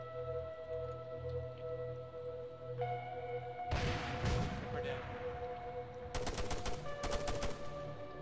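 Rapid bursts of automatic gunfire in a military shooter game, a dense volley in the middle followed by sharp repeated shots near the end, over a steady hum.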